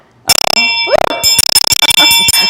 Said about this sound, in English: Just ring the bell one more time.